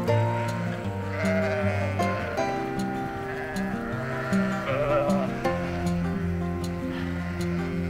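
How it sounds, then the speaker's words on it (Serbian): Sjenica Pramenka sheep and lambs, a flock of about a thousand on the Pešter plateau, bleat continuously and overlap in many voices, loud and close, with no talk. "pase oko 1000 umatičenih ovaca i jaganjaca sjeničke pramenke"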